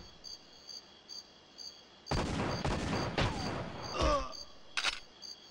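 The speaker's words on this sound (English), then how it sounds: "I forgot about the turrets on this one" Turret fire in the GoldenEye remaster rattles in bursts of sharp shots after a quiet stretch, over a faint high electronic tone, with game effects around it.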